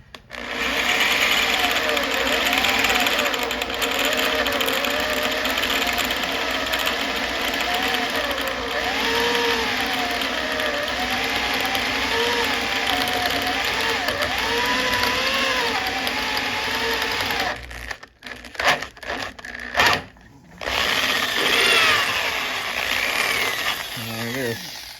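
A drill machine runs steadily while boring through a double bass part, a continuous mechanical whine with someone talking over it, then stops and starts in brief bursts near the end.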